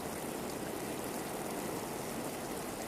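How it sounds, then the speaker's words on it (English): Steady, dense rainfall imagined on the primeval early Earth, a continuous broadband hiss of heavy rain or rushing water, even and unbroken throughout with no voices. "this is how the first rain in our planet's history began"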